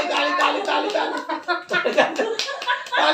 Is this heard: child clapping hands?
yes